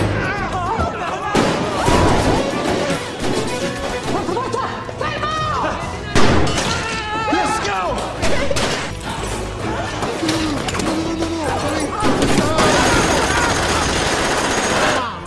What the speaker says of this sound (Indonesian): Kemudian terjadilah baku tembak di antara mereka.